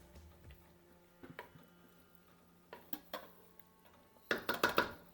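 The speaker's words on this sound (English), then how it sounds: "give it a stir" Spoon stirring snake gourd curry with coriander in a pot makes soft, scattered taps and scrapes against the metal, ending in a brief cluster of louder clinks.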